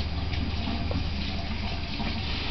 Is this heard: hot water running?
yes